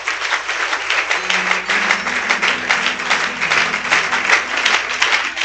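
Congregation applauding in a church, a dense, continuous round of clapping from many people that holds steady throughout, with some voices faintly mixed in.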